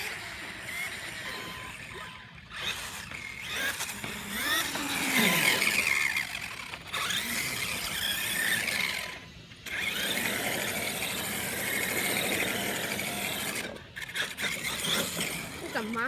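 Electric-converted T-Maxx RC monster truck motor at full throttle, a high whining squeal that rises and falls in several bursts separated by short gaps, with a voice talking over parts of it.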